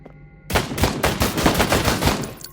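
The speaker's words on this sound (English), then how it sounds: "Now let's try out your pistol." Pistol fire in the S.P.A.T. shooter game, a fast run of sharp, loud shots starting abruptly after a quiet moment and repeating in a quick, even rhythm to the end, with no talk.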